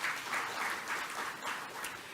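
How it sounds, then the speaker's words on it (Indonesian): An audience claps together in a hall during a speech on the economy, a moderate, fairly distant wave of applause rising and falling in pulses. "tepuk tangan semuanya"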